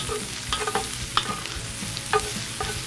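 Green beans stirred and folded in a pot for a paleo cottage pie, with soft scraping stir strokes and light sizzling of fat underneath, a few sharper scrapes standing out, close and moderately loud with no talking.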